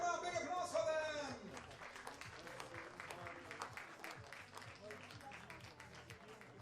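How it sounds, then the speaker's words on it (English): An audience applauds finalists at a show, with steady clapping and crowd noise held at a moderate distance after an opening stretch of a loud voice over music. "Come on, big applause for them."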